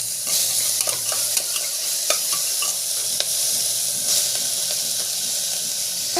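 Peas and tomato sautéing in a hot pan make a steady sizzling hiss, broken by occasional soft stirring scrapes, close and continuous.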